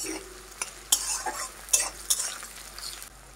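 Onions frying until deep red for an old-style home mutton curry, a soft steady sizzle broken by several sharp scrapes and clinks of a spoon stirring against the pan.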